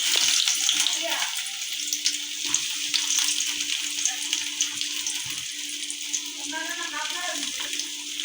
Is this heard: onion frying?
yes